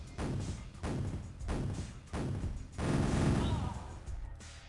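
Tommy gun fire in the video game Piratez: several loud bursts of rapid automatic shots in short rhythmic volleys, the longest near the end, with game sound effects around them.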